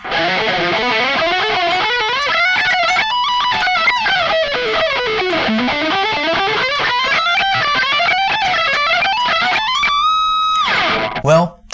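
Electric guitar solo played fast as an ascending pattern, with rapid runs of clear notes climbing and falling in steady waves for about ten seconds before a final held chord.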